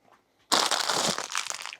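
A plastic bag crinkles loudly up close as it is grabbed and handled, a sudden burst of rustling after a brief quiet moment.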